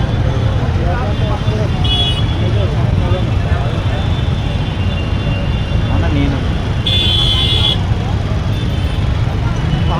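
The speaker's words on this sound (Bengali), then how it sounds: "পুরো চারিদিকে জ্যাম হয়ে গেছে।" A jammed road at Jhinjhina market in Budge Budge, where a stalled train has blocked traffic: a dense, loud roadway rumble with engines idling and two short horn toots, while people talk nearby.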